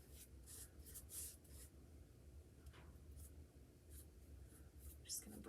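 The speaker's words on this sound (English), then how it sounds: "Just gonna brush that on" A brush is worked across paper through a stencil, spreading glass bead gel in soft, faint, repeated scratchy strokes with short pauses between them, heard up close in a quiet room.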